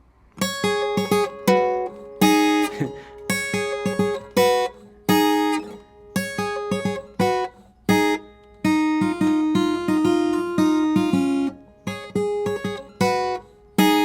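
A guitar plays a bright, fingerpicked riff without the thumb chuck, in short repeated phrases with crisp gaps between bursts of notes, clear and close, without any talking.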